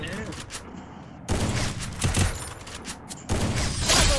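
Gunfire in a Free Fire 4v4 match on the India server, with sniper shots landing in several loud, abrupt bursts amid game effects and a voice talking over the action.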